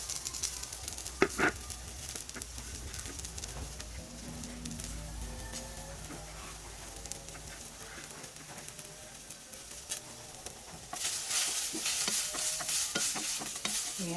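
Garlic and onion sautéing in a pan, with a steady sizzle and frequent scraping stir strokes throughout, the frying growing louder toward the end, close and moderately quiet.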